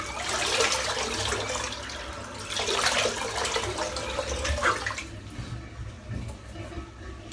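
Cold tap water splashes and runs over a freshly shaved head during rinsing, a close, steady wash with a few louder surges before it quiets in the last two seconds.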